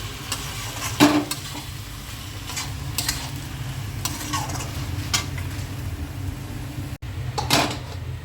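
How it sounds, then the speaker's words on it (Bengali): Bottle gourd with small shrimp fries in a pan, a steady close sizzle broken by a few sharp clinks and scrapes of stirring. "এই যে লাউ রান্না করছি, চিংড়ি মাছ দিয়ে লাউ, ছোট চিংড়ি দিয়ে লাউ রান্না করছি।"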